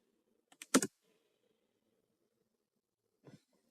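A computer keyboard typing a telnet command for testing a Cisco network automation script: a quick burst of several close key clicks, then a pause and two more keystrokes, near and crisp against silence.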